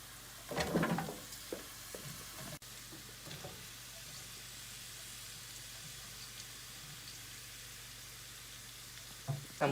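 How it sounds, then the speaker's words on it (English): Onions sweating in a pan with chili pepper and turmeric alongside zucchini, squash and other vegetables for veggie enchiladas, giving a steady soft sizzle with a few louder stirring scrapes near the start and end. "we're going to sweat the onions with chili pepper and turmeric"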